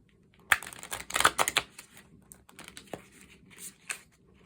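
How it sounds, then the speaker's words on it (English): Tarot cards are shuffled with quick, crisp riffling and flicking sounds in short bursts, close up, with no talking. "So let's go ahead and shuffle this."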